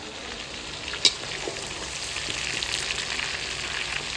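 Meat browning in a pan gives off a steady close sizzle and hiss, with one brief clatter near the start.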